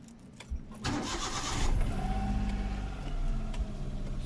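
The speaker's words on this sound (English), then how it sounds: "Let me just start up the engine and show you guys." A car engine cold-starts with a short crank and catch, then settles into a steady, close idle during a comparison of NGK Laser Iridium and Denso Iridium TT spark plugs.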